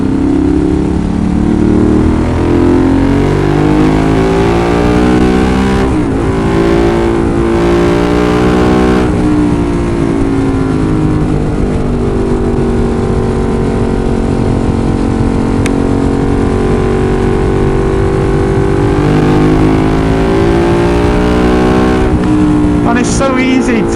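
A Ducati 916 motorcycle at speed gives a loud, continuous engine drone with rising and falling pitch as it revs, mixed with heavy wind rush, and a rider talks over it.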